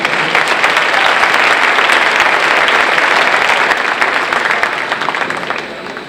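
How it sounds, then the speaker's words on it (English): A large audience applauds award recipients at the Susan B. Anthony Awards ceremony, dense steady clapping filling the room for several seconds before tapering slightly at the end. "So give them a round of applause"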